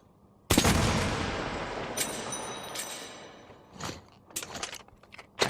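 A sudden loud burst of gunfire on a Metro: Last Light shooting range decays slowly into a long echoing tail, then a few smaller mechanical clicks and clacks follow.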